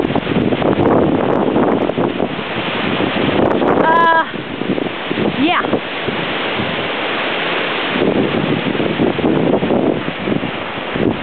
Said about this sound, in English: just a wee bit windy.